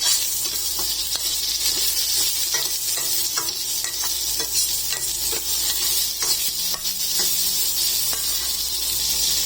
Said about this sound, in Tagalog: igisa po natin ng sibuyas at bawang